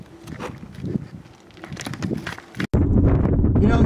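Gusty wind on a hiking trail buffets the microphone in low rumbling waves, surging to a heavy, steady roar in the last second.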